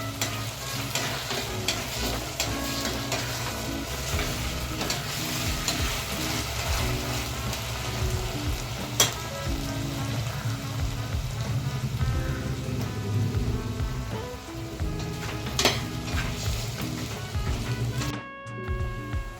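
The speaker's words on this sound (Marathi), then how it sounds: "आलं लसूण पेस्ट आपल्याला चांगली परतवून घ्यायची." Ginger garlic paste sautéing in a pan, a dense continuous sizzle like heavy rain with regular stirring scrapes, one sharp clink and a brief drop-off near the end, with no voices.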